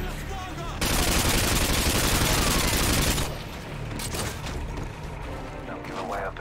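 Sustained automatic gunfire erupts in the Modern Warfare 2 video game, a dense burst of rapid shots lasting a couple of seconds, followed by scattered shots and clatter while voices talk.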